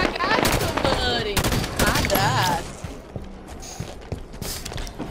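Rapid gunfire in a SWAT video game, a dense burst of sharp shots in the first half fading to scattered pops, with people talking over it.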